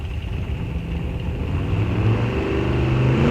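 Drag racing car at a raceway start line, engine revving loudly and steadily, its rumble rising in pitch and intensity over a few seconds with no talk.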